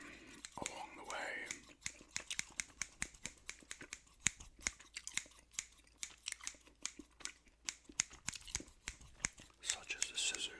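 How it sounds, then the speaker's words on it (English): Scissors snipping close to the microphone, a run of sharp, rapid clicks repeating through the clip, mixed with soft whispering and occasional mouth sounds from gum chewing. "Such as the scissors sound."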